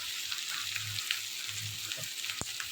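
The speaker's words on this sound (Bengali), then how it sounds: "আমার পেঁয়াজটা কিন্তু অলরেডি ভাজা হয়ে গেছে" Onions fry in oil in a pan while dried fish is being cooked, giving a steady, close sizzle with soft crackles and a brief sharp tick near the end, with no talk.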